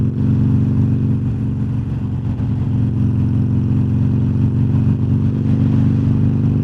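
A Harley-Davidson Iron 883 motorcycle rumbles steadily while being ridden, a loud, deep, continuous V-twin drone close to the microphone with wind noise and no speech.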